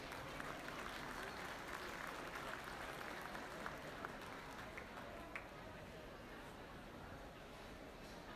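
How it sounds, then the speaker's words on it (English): Audience applause at a junior market swine show, a steady wash of clapping from a crowd that holds evenly through the whole stretch with faint chatter mixed in. "Let's give them a big round of applause."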